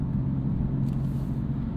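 A 530 hp 2015 BMW M4 with DCT transmission drives along steadily, its engine a continuous low rumble heard from inside the cabin with no gear changes or sharp revs, and no one speaking.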